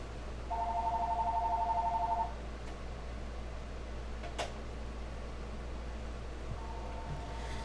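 An incoming call sounds as a short, clear electronic ringing burst, followed by a brief knock and a faint second tone starting near the end, all in a quiet room.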